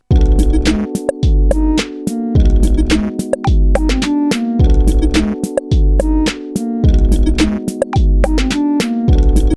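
A steady electronic drum beat at 107 BPM, with punchy kicks, snappy hits and a looping synth bass repeating in a tight pattern.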